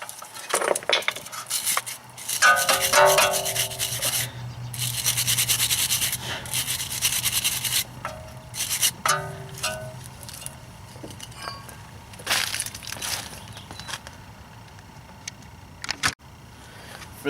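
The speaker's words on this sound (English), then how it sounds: "brush your contacts on the bracket where the pads rest" A brush scrubs the pad contact points on a BMW E83 X3 brake caliper bracket, giving bursts of close, rasping metallic scrubbing separated by short pauses and light clinks.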